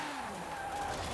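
Tires skid and squeal as an RX-7 drift car slides through a drift zone in Forza Horizon, a steady loud screech over engine noise with no pauses.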